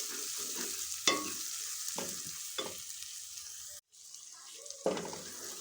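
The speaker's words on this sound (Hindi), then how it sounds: "इसको हम अच्छे तरीके से ऑयल में भून लेते हैं" Ginger garlic paste sizzles in hot oil for fish curry, a steady quiet frying hiss punctuated by several scraping stirs of a spoon in the pan.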